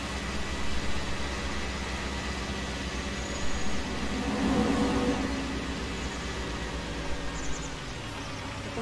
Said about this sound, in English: So we're going to go ahead and leave that tractor running.